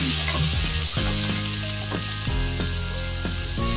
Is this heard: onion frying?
yes